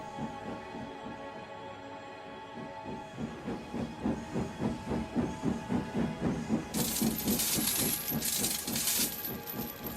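A steam engine chuffs rhythmically in a steady beat, then a loud broad hiss of released steam joins in partway through, close and alone with no voices.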